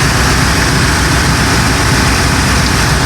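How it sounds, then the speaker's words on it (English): A Bayliner boat's engine idles steadily close by, a loud, continuous low rumble with no breaks and no voices over it. "Engine's ticking over nicely."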